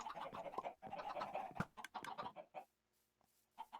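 Chickens cluck in the Minecraft video game, a quick run of soft, close clucks and short squawks that stops briefly before a few more calls at the end, with no talk.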